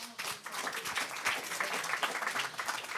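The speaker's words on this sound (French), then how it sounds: "Sous vos applaudissements" A crowded audience at a French talk on nuclear fusion applauds, giving three seconds of dense, steady clapping heard from within the room, fairly faint overall.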